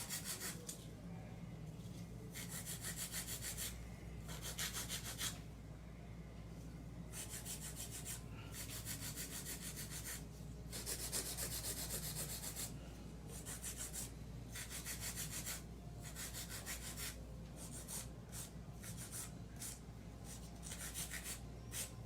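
A file rasps steadily across acrylic nails, shaping them in repeated close strokes with short pauses between passes, and no voices are heard.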